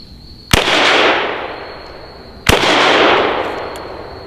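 Two loud, close gunshots from a survival shotgun fitted with 9mm and .357 adapter inserts, spaced about two seconds apart, each a sharp crack followed by a long fading outdoor echo, with no talking.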